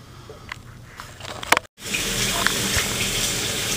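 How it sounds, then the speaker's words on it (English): Tap water runs to rinse off a product: a few quiet clicks and rustles come first, then a loud, steady rush of running water fills the rest. "And now I'm just going to go ahead and wash this off."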